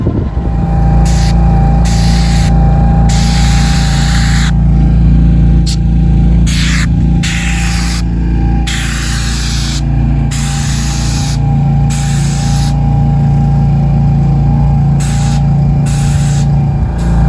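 A loud, continuous hiss of asphalt driveway sealer being sprayed over the pavement, close and steady, with a constant mechanical hum from the sprayer pump underneath.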